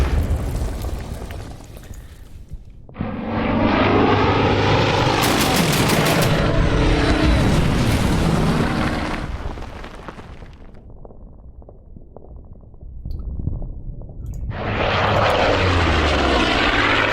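Fighter and bomber aircraft in the World War II strategy game Order of Battle, Pacific campaign: loud propeller engine roars and explosive rumbles rise in long waves, separated by quieter stretches, with no talking.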